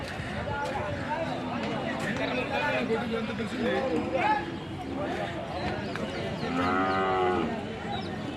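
Calves and Ongole cattle moo repeatedly at a busy livestock market in Kodad, with people chatting nearby and a long low bellow toward the end.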